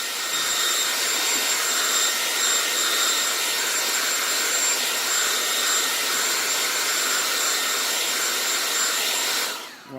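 A heat gun heat-setting stencilled paint blows a loud, steady, close whooshing roar with a thin whine on top, running continuously before cutting off abruptly at the end.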